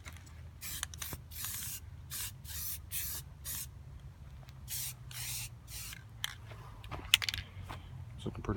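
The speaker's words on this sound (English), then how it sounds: "I'm going to spray a little bit more copper on there" Short hissing bursts of a copper spray paint can, repeated in quick irregular pulses, close and fairly quiet, with a few small clicks in between.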